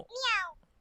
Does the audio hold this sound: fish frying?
no